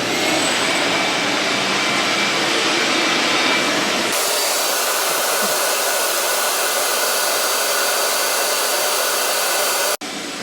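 A shop vacuum draws air through a Home Depot Dust Stopper separator, a loud, steady whining roar that drops in pitch and tone about four seconds in, then runs on evenly until an abrupt click near the end.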